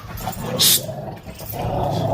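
A dog vocalizes in a short outdoor burst, one sharp bark-like sound standing out over low background rumble and faint voices, at a yard in Edmonton, Alberta.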